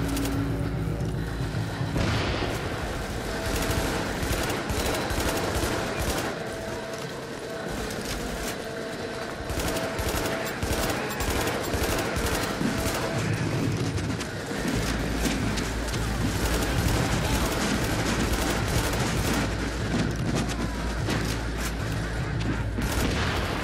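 Dense, continuous rapid gunfire and crackling shots from a firefight in The Division at the Lexington Event Center, sustained loudly throughout with a busy, chaotic texture.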